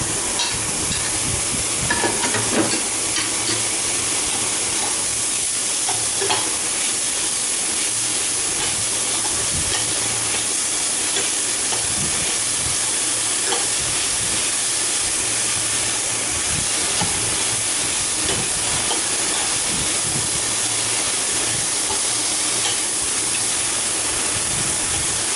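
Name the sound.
onion and garlic frying in a pan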